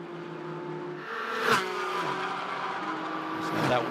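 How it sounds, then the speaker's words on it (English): GT4 race cars at Indianapolis sweep onto the front straightaway, engines droning with a high whistling tone, a sharp burst near mid-clip and another rise at the end, under faint commentary. "That whistling there as they come onto the front straightaway."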